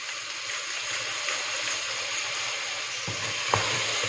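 Rice browning in a pan gives a steady, close, bright sizzle with occasional stirring scrapes, frying continuously throughout with no talk.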